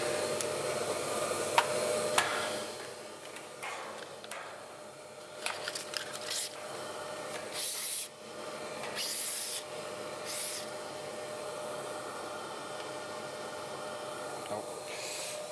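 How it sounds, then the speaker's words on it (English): A Picote Smart Cutter machine grinds off the end of a pipe, a steady whirring, rasping drone with a few sharp knocks and bursts early on, settling into an even grind, moderately loud and close. "I connected to the machine, the smart cutter, and I will grind off the last part of the pipe"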